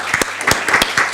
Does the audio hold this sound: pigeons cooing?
no